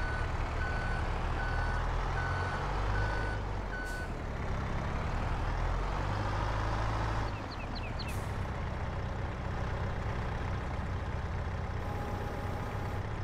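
A truck in the video game Farming Simulator 22 beeps steadily while reversing, its engine rumbling underneath; the beeping stops partway, the engine keeps running, and brief air hisses are heard.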